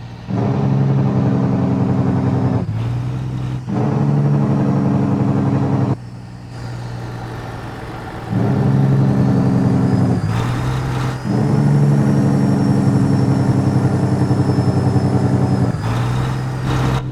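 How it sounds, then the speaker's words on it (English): Freightliner FLD truck in American Truck Simulator, its engine brake snarling in loud, deep, rapid bursts that cut off and restart several times, with brief quieter gaps of lower engine drone between them. "let's get some engine braking going here and let you guys listen to this beautiful piece of kit"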